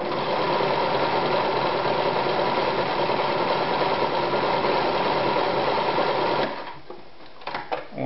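An Anker 220 sewing machine sews a stretch straight stitch in one continuous, loud, close run of rapid mechanical stitching, then stops, followed by a few light handling clicks.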